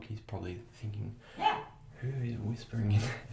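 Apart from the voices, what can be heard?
dog barking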